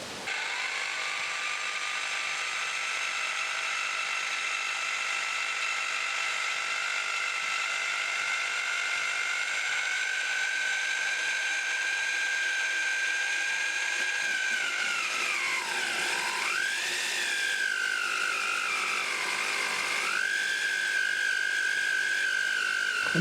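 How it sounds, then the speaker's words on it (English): A Bosch GBH4 DFE drill in drill-only mode, with no hammer action, bores into a soaking-wet block in an internal wall. The motor whines steadily and loudly, its pitch sagging briefly a couple of times under load and then recovering. "we need to ensure that the drill is in drill only mode"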